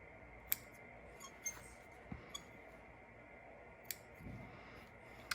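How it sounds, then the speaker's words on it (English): Quiet scissors snips trimming thread tails at an ironing board after sewing a waistband, a handful of sharp, isolated clicks spread out over low room hiss. "let's go ahead and trim off those thread tails"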